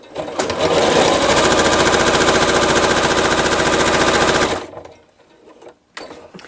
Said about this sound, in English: I'm going to make any adjustments I need to the needle position to make sure that I'm sewing a 1/4 inch from my drawn lines.